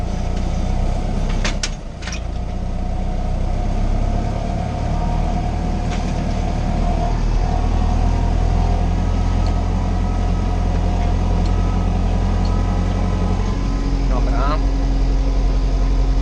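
A Fendt tractor engine runs in a field, a steady, loud low drone that holds constant throughout with no break, heard close as from the cab.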